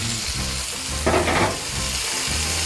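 Canned pinto beans sizzle steadily in a pan with chorizo, a close, even frying hiss with a brief louder burst partway through and no talk.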